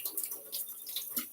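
Baby bella mushrooms are swished quickly in a bowl of water, giving soft, continuous sloshing and splashing close up in a home kitchen.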